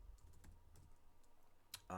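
Computer keyboard typing, a few quick faint key clicks in an irregular rhythm, close and quiet.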